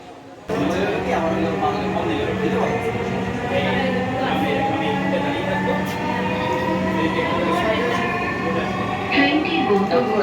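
Close inside a moving Dhaka metro train, a loud steady rumble with rising electric motor whine and rattling, voices faintly mixed in.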